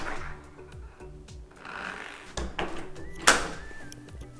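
A door opens on a home fitted with a DSC Power Series alarm system, its chime switched off: a soft slide and a couple of knocks build to a sharp click and rattle, then only a faint hum follows, with no chime.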